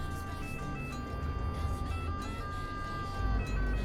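Emergency vehicle sirens in Euro Truck Simulator 2 wail continuously in shifting electronic tones over a low truck engine rumble, steady and fairly loud throughout.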